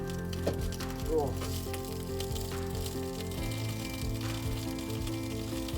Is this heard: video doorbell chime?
no